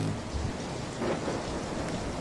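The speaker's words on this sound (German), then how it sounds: "Es donnerte. Sturm war angesagt" A thunderstorm with steady heavy rain and a low rolling rumble of thunder, dense and continuous throughout, fairly loud and without any voices.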